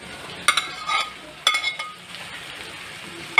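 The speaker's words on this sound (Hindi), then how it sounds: "अब हमारा प्याज भून गया है, अब हम इसे इसमें टमाटर डालेंगे" Onions sizzle and fry in a pan as tomatoes are added, with a few sharp clinks and scrapes of a utensil against the pan over a steady low frying hiss.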